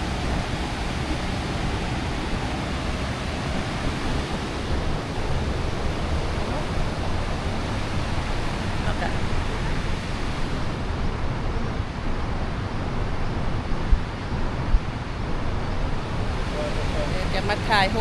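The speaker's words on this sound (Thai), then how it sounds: "น้ำตกก้อนพระเพงนี่เนาะ" The Khone Phapheng waterfall on the Mekong in Laos pours with a steady, loud, broadband rushing roar that holds unbroken throughout, with no voices standing out.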